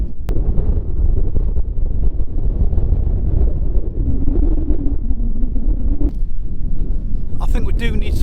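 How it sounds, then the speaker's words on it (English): Strong wind gusting across open hills in the Scottish Borders, a loud, steady roar and buffeting over the microphone, close and continuous. "the wind is horrendous"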